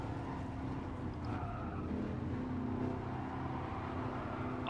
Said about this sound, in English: I've always found the weakest sound of Gran Turismo is the engine sound.